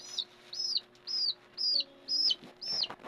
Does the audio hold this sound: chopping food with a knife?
no